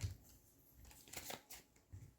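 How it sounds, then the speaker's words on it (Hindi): Tarot cards are shuffled and drawn by hand, giving soft, faint riffling and flicking bursts close by with short pauses between them. "देखिए कार्ड्स भी किस तरह से उड़ रहे हैं"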